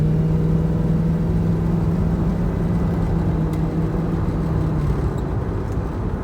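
A 2003 Ford Mustang convertible's engine runs at a steady idle or cruise, a low continuous rumble with a constant hum, close and unchanging throughout without any talk.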